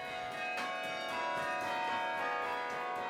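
Tower chime bells ring out a melody played by hand, bright and sustained with overlapping tones and a steady ringing wash, heard alone without voices.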